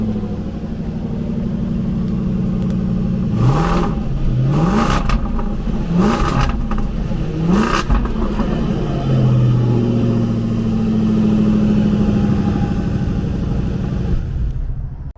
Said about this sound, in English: that was actually the car dribbling, George has pointed out